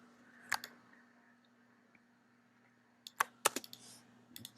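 A few sharp computer keyboard keystrokes click in quick clusters against a quiet background hum, one isolated tap first, then a rapid burst of several keys near the end.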